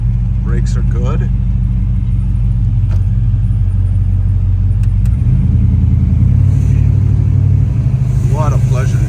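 A 1948 Chevrolet 3100 pickup truck engine rumbles steadily while driving, with low drone shifting in pitch as it changes gears; people talk over it.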